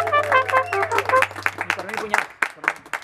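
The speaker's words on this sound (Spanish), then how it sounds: "El aplauso maravilloso que se escuche." Audience clapping breaks out at a birthday party with a live youth mariachi band, a burst of scattered claps and cheering following the end of a sustained musical chord, with a voice calling out over the crowd.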